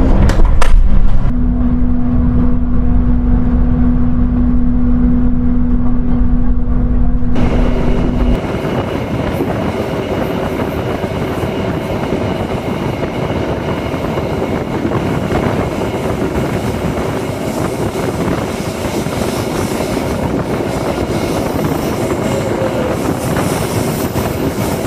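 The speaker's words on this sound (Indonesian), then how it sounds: "Langsung berangkat juga kereta api Logawa nampaknya teman-teman." Logawa passenger train departing and running, heard from on board as a loud, steady rumble and wheel roar, with a high tonal hum early on before the noise settles into a constant close drone.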